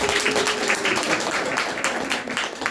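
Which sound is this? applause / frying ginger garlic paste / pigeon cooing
applause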